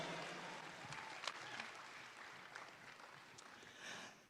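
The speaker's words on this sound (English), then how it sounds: "big round of applause." Audience applause at a junior Brahman cattle show, where exhibitors and breeders are being thanked. It is fairly faint and distant: a steady spread of clapping across the whole stretch, with a few sharper claps standing out and a slight swell near the end.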